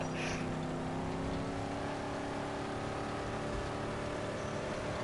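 A car engine drones steadily while driving in the Mad Max video game. It holds a continuous, fairly loud hum with no talking over it.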